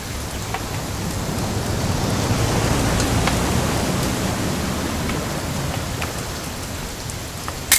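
Steady, heavy rain hissing continuously in the video game What Remains of Edith Finch, with scattered sharper drops pattering on a surface.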